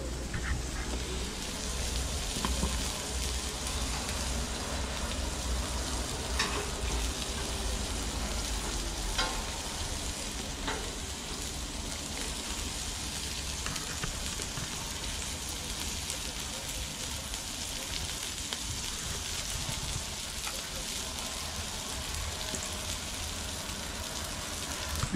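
Köfte meatballs and sucuk sausage sizzle over a charcoal grill on a cold balcony, a steady broadband hiss and crackle running unbroken and close throughout.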